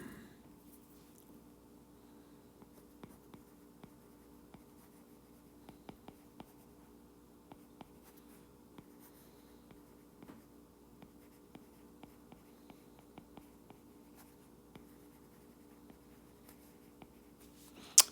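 Faint, sparse taps and scratches of writing on a board during a lesson, coming in short irregular strokes over a quiet steady room hum with no voices heard.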